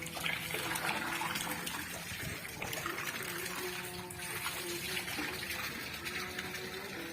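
Water gushes steadily from a running tubewell into farm fields, a continuous rushing, splashing flow at close range with faint voices in the background.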